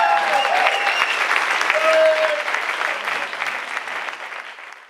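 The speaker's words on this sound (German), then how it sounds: "einem großen Applaus Jafar Taha hier auf die Bühne" An audience claps to welcome a speaker onto a stage at a business talk, dense sustained applause at full volume that slowly thins toward the end, with a little crowd murmur and no spoken words.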